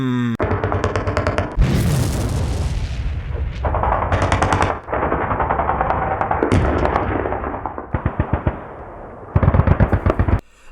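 A gunfire sound effect: rapid machine-gun bursts and scattered shots crackle loudly in a dense, continuous barrage with brief gaps between volleys.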